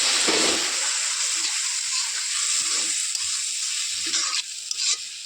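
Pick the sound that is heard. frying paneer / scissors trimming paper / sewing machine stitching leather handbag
frying paneer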